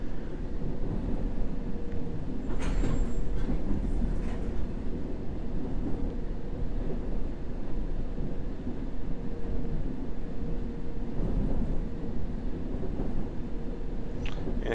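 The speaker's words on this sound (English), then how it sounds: "Go past another C stock train here and going through the platform" A London Underground C stock train passes in the World of Subways 3 simulator, a steady rumbling rail roar with faint clanks and brief squeals as it moves through a platform.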